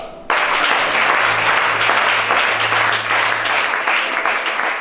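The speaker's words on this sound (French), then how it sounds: "Acclame Shaddai" A church congregation at a French-language deliverance worship service applauds steadily, dense clapping starting abruptly and sustained throughout, with a low hum or voice underneath.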